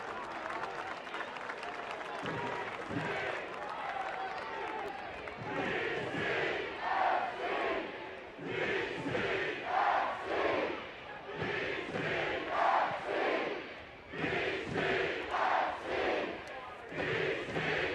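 Home supporters at a Detroit City FC soccer match chant rhythmically in surging waves of voices, with cheering and clapping rising and falling as the stadium crowd comes to life, a commentator talking over it at times.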